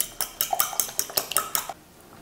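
A utensil stirs chopped greens such as dill or parsley into egg whites in a bowl, producing about ten quick, close metallic clinks in a brisk rhythm before stopping.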